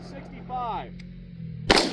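A single loud, sharp report from an M16 clone with a 20-inch barrel firing polymer-cased 5.56 ammunition comes near the end, after a person talks.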